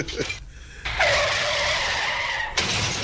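A car brakes hard with tires skidding in a sustained squeal lasting about two seconds, loud and close, preceded by brief engine noise.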